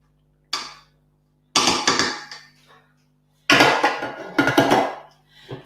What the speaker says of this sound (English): So scrape down the side of the bowl.